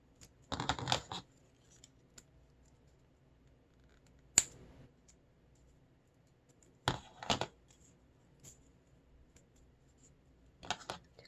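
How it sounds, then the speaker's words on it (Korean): Scissors snipping through colored origami paper during a craft folding session, a few quick crisp cuts in short bursts separated by quiet pauses, close up with no talking. "가위로"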